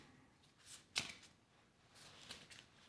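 A deck of cards from the Star Trek Deck Building Game: The Next Generation is shuffled at a tabletop game. It gives soft riffling swishes with one sharp snap of cards near the start, and no talking.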